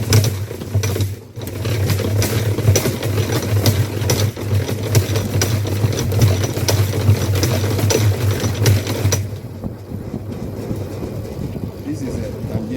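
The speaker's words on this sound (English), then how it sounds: "This is a tangential form of extractor" A tangential honey extractor spins with a continuous mechanical whir and rumble while a person talks over it, and the machine noise thins out near the end.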